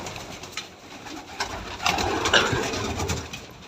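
Bango pigeons coo in soft, low, repeated murmurs at close range, with a faint engine hum underneath.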